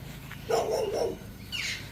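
A dog gives a few faint, brief barks at a distance in a quiet garden setting, with a short yip following after a pause.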